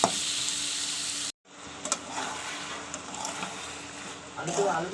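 Onions fry in a pan with oil for a spicy fish curry, a steady sizzling hiss cut off briefly and then resuming with stirring clatters, heard close with faint voices in the background.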